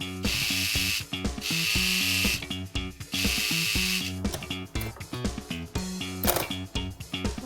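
A sewing machine stitches pieces of Patiyala salwar fabric together, running in loud, steady mechanical bursts with rhythmic clattering, pausing briefly between runs, close up and without talk.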